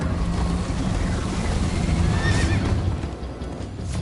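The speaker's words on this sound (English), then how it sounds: "First time on a horse here." A horse in the Minecraft: Story Mode video game gives a loud whinny over rapid galloping hooves, with rushing wind-like noise through the chase and no talking.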